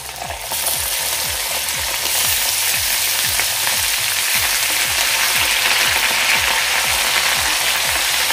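Chili and garlic paste sizzling in hot oil with bloomed cumin, cooking for a radish bhaji: a steady, loud, continuous frying hiss with a faint repeating ticking underneath, no voices.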